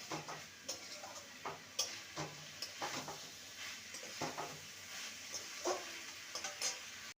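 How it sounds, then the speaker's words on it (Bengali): Fried potatoes and kakrol are stirred into spice paste in a pan, with soft sizzling under repeated scraping and clinking spatula strokes against the metal, close but fairly quiet. "এবার ভেজে রাখা আলু আর কাঁকরোল দিয়ে দেবো ভালো করে মশলার সাথে নেড়ে নেব"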